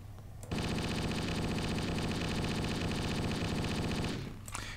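Rapid automatic gunfire in the video game Halo, a continuous loud burst of closely spaced shots lasting several seconds, then cutting off abruptly.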